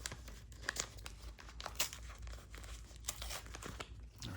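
A mail package is torn open, with crinkling paper and sharp tearing bursts close by at a fairly quiet level.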